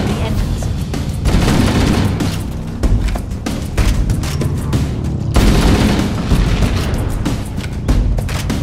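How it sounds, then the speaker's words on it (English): Heavy battle in the Halo video game, with dense rapid gunfire and repeated booming explosions going on continuously, loud and close, with a voice speaking over the combat. "Use explosives on the other three reactors. That should be enough to trigger a wildcat explosion on the engines."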